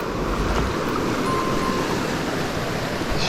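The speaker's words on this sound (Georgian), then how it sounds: "ნაკადული" A Georgian mountain stream where trout are fished by spinning, heard as a steady broadband rush of flowing water, close and continuous with some wind buffeting, no speech.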